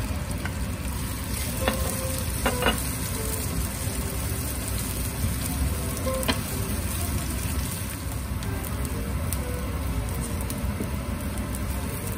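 Onion and ginger sauté in a pan for fish cooked in coconut milk, a steady close sizzle with occasional stirring scrapes and clinks, no one speaking.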